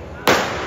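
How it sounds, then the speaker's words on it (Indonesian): A single sudden firecracker bang bursts out over a constant background hum, its crackling tail lingering briefly, in Spain. "Wow, petasan."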